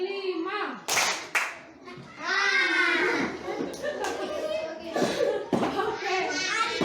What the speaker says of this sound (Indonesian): Tepuk 2 kali 1. Tepuk 5 bagi 5.